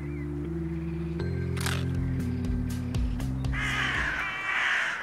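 Blackbirds in the video game Little Misfortune let out a run of harsh caws over a low droning game score, the calls loud and repeated, growing into a noisy flurry near the end.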